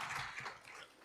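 A faint, brief burst of audience applause greets a panel at a UN ESCAP Committee on Environment and Development session, a dense, steady patter of many hands clapping with no voices over it.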